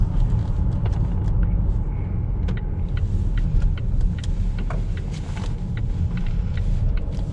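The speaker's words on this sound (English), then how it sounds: "this XC90 has 328 brake horsepower, so I'm gonna quickly show you what it can do" A 328-horsepower Volvo XC90 accelerates hard, its engine a loud, steady low rumble heard from inside the cabin, with a faint hiss of road and wind noise above it.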